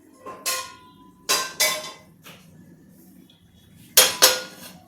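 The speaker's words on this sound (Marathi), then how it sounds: "यावर आपण आता आपला तवा ठेवूया" Several heavy metallic clanks and scrapes as an iron griddle is set down and shifted on a stovetop, with quiet gaps between the knocks.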